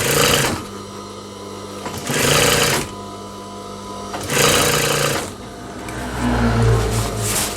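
Sewing machine stitching a rib collar onto a garment body, three loud bursts of rapid mechanical stitching separated by short quiet pauses, close up with no talk.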